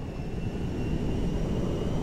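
A large cargo jet in Grand Theft Auto V gives a steady, loud engine roar with a deep low-end rumble that holds evenly throughout.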